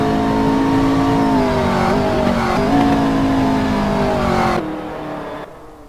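A McLaren GT3 race car engine in a Monza sim racing game holds a loud, steady high-revving drone with a shifting pitch, then drops sharply in volume near the end as it fades away.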